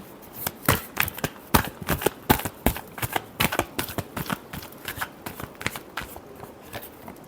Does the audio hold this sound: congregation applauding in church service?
no